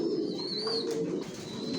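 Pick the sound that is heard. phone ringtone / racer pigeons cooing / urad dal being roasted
racer pigeons cooing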